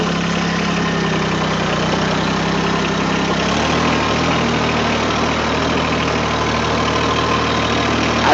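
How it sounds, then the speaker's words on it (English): Engine of a Mahindra eMax 20S HST tractor starting and settling into a steady idle, a loud continuous rumble that shifts lower after a few seconds and then runs evenly to the end. "Start the engine."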